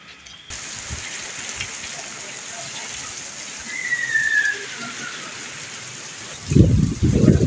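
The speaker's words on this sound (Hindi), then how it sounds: "तो बारिश काफ़ी तेज़ हो गई है।" Heavy rain pours steadily on a rooftop with a continuous hiss, and a voice breaks in briefly near the end.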